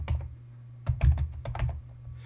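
Keys clack on a computer keyboard as a road-name address is typed in, a few quick bursts of crisp taps separated by short pauses, close and clear.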